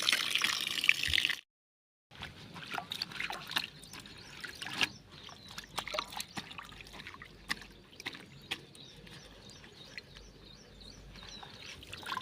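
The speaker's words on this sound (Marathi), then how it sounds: "आता या पाण्यामध्ये थोडंसं मिक्स करूया आणि सगळी पानं आपण एक पाच मिनटं अशीच भिजत ठेवणार आहोत" Colocasia leaves are swished around in a bowl of salted water, producing faint, close sloshing and trickling with a brief quiet gap near the start.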